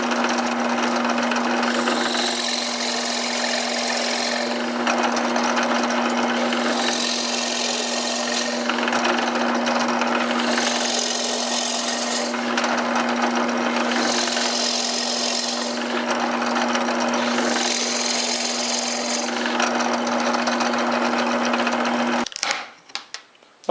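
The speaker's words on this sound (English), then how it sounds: "I can make as many plugs as I want" A power drill turns a plug cutter through wood to cut plugs for an Adirondack chair, a steady loud whirring drone with about five surging bursts of cutting before it stops abruptly near the end.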